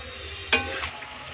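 Tomato hits hot oil in a pan with a short, sharp sizzling burst, followed by a brief rustle of stirring and a lower steady fry.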